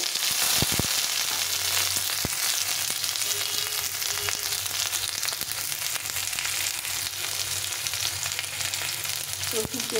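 Chopped garlic and a large onion fry in hot oil in a pan, producing a continuous crackling sizzle with scattered sharp pops and occasional stirring scrapes, close and unaccompanied by speech.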